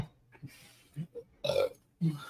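A person burps in a couple of short, loud belches after a few quieter throaty sounds, heard close up.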